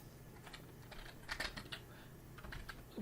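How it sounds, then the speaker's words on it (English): Soft, quiet taps on a computer keyboard during web design work, a few scattered keystrokes and short clusters of clicks at close range. "Now we can type."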